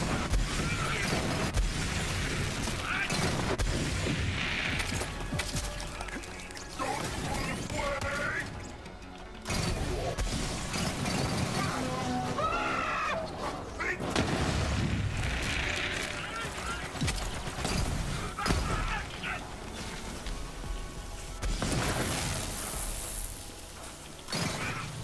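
Burst-fire gunfire in Borderlands 3, the Unkempt Harold in burst mode, as loud clustered crashing shots with mechanical clacks and whooshes, broken by a short lull, while someone talks over the action.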